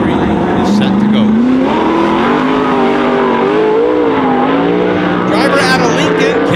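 A 410 sprint car at Grays Harbor Raceway screams on track, its loud engine drone holding steady and swinging up and down in pitch throughout, while an announcer's voice talks over it.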